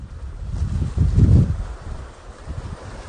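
Strong wind gusts across the rocky coast at Taean's Mado shoreline, a rumbling buffeting that swells to a peak and then eases into a low, uneven rush.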